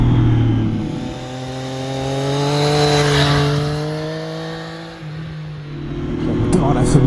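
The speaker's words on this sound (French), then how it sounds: "Vraiment le 3 cylindres, ça a une âme et c'est hyper rageur, c'est plein à mi-régime, ça hurle à haut régime" Triumph Street Triple 765 RS three-cylinder roadster engine revving close by, its pitch climbing steadily in a sustained howl, dropping briefly and then rising again.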